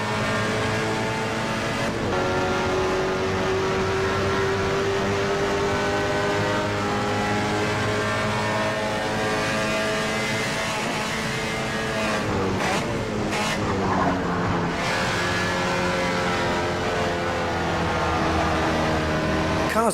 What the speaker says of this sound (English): The car's bogging down like it's crazy.